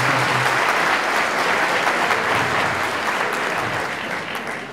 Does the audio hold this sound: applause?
yes